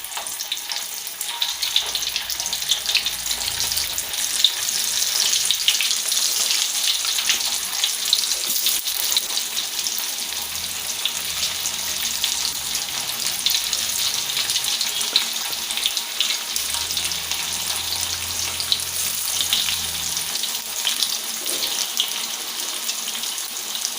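Tempe fries in hot oil with a loud, steady, bright sizzle that runs unbroken throughout, close and alone, with a faint low hum underneath.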